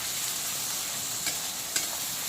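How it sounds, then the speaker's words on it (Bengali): Onion, ginger, garlic and green chilli fry with fish for a chop, giving a steady close sizzle with a couple of faint stirring scrapes and no voices. "আর পেঁয়াজে যেটুকু ভাজতে বাকি আছে সেটাও কিন্তু আদা, রসুন আর কাঁচা লঙ্কার সঙ্গে ভাজা ভাজা হয়ে যাবে।"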